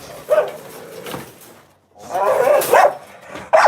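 Dog in a cage giving short, sharp barks and yips in two bursts separated by a brief pause, loud and close, with a voice speaking over it.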